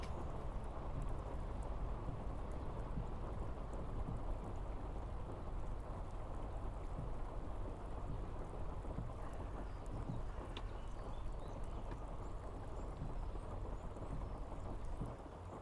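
Steady rain with low rolling thunder in the Farming Simulator 25 video game, a continuous loud downpour that holds for the whole stretch with no voices.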